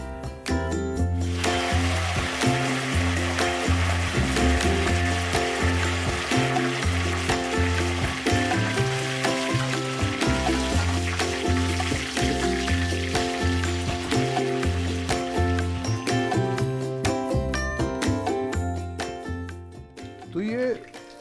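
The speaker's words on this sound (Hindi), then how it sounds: "तो ये जो मटन है वो थोड़ा थोड़ा करके डीप फ्राई कर रहे हैं" Pieces of pressure-cooked mutton deep-fry in hot oil in small batches for Kolhapuri mutton pickle, giving a loud, continuous crackling sizzle. People talk over it, and the sizzle fades near the end.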